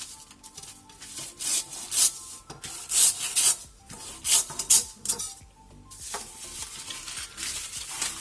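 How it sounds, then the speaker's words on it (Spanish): A sharp knife drawing diagonally through a slab of chocolate for cake decorations makes scraping, rasping strokes in several uneven bursts, close and moderately loud, with no talking. "con un cuchillo afilado lo que vamos a hacer es cortar por aquí por la diagonal"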